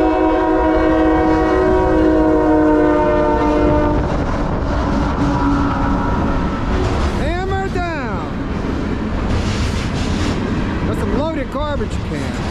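A CSX westbound freight train on the Lehigh Line rumbles past loudly, its horn sounding a sustained multi-tone blast early on, followed by two shorter Doppler-bending horn bursts over the steady roar of rolling cars.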